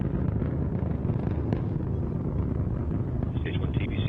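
Antares rocket engines at full thrust during ascent, heard as a dense, continuous roar with wind-like rumble. It holds steady and loud throughout.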